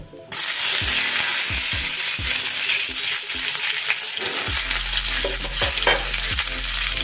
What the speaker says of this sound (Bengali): এবারে কেটে ধুয়ে রাখা শিমগুলো এর মধ্যে দিয়ে দেব